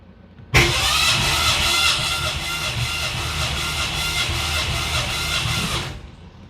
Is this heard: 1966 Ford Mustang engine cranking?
yes